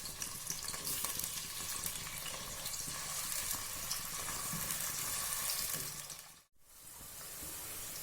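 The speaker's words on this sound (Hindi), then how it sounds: "साथ ही हम इसमें ऑनियन ऐड कर देंगे और इसको मीडियम ब्राउन होने तक फ्राई करेंगे" Onions sizzling in a pan for kadhi pakora, a steady close crackle of frying that continues alone, briefly interrupted near the end.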